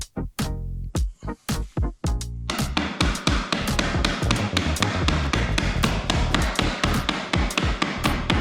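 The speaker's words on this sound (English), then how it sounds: "use a rubber mallet to hammer them tightly together" Rubber mallet hammering dowels into a glued wooden miter joint for a modern patio chair: a few spaced thuds, then a fast, steady run of close, loud blows, with no talk.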